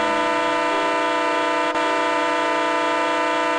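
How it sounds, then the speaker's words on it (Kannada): A train sounds one continuous long horn blast, a loud, steady, harmonically rich tone held unbroken throughout, close and alone with no talking. "ಅದರಲ್ಲಿ ಮೊದಲನೇದು ಕಂಟಿನ್ಯೂಸ್ ಲಾಂಗ್ ಹಾರ್ನ್."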